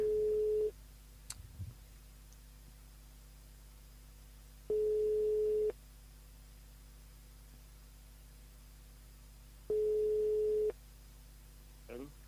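Telephone line tone during a live radio call-in, three steady beeps about a second long each, spaced roughly five seconds apart, over a faint hiss and low hum.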